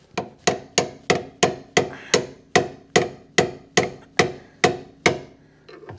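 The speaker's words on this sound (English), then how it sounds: "So we've still got the rubber bushing and sleeve up in here, which I might now be able to hit out with." A hammer drives a 16 mm steel drift to knock a rubber bushing and sleeve out of a Mercedes W126 idler arm: about fourteen sharp, evenly paced metallic strikes, loud and close, with no talk.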